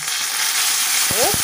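White wine splashed into a pan of searing meat sets off a loud, broad hissing sizzle that fills the whole moment, with a short voice sound near the end.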